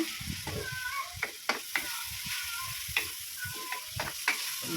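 Pork sizzles and crackles steadily in a hot pan, with intermittent scraping and stirring clatter from a utensil.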